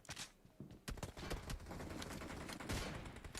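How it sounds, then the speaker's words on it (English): Sniper and rifle fire in a PUBG Mobile esports match, several sharp cracks spaced irregularly among a faint rattling burst of distant gunfire, quiet overall. "Eh, mnapigwa na snipers."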